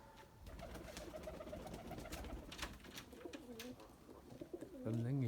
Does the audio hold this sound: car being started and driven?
no